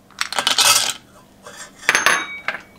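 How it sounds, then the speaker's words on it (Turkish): Milk chocolate and dark chocolate pieces drop into a pan of gently warmed cream. They make two bursts of bright, close clattering and clinking with a quiet pause between, and a final short clink. "Hemen çikolataları ekliyorum."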